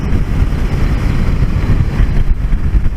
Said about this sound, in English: But it's very windy today.